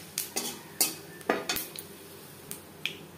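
Bay leaf and panch phoron tossed into hot oil left from frying shol fish, heard as a string of sharp metallic clinks and taps of utensil on pan, with only a faint sizzle underneath.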